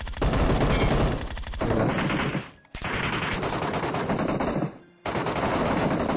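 Loud automatic gunfire in a competitive online shooter match, long sustained bursts cut by two brief pauses, with no talk over the shooting.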